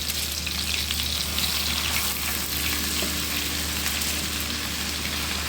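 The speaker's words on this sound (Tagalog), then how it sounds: "dahil patunaw na ang ating butter, ilagay nyo na yung chicken" Chicken pieces fry in melted butter in a pan, a steady, close, dense sizzle and crackle that holds evenly throughout with no talking.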